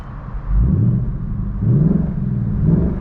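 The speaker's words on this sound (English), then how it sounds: "It revs a little faster, you can see." A 2019 Ford Mustang Bullitt engine revs twice in sport mode, rising in pitch with a deep rumble, over a steady idle.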